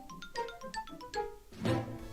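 Nintendo GameCube standard startup jingle, a bright sequence of quick chiming electronic notes followed by a fuller swelling chord, clean and moderately soft.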